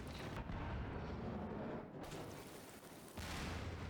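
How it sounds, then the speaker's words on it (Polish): Heavy, roaring explosions of barrels blowing up in Half-Life 2 fill the clip, dipping briefly before another loud boom surges back. "beczki musiały wybuchnąć"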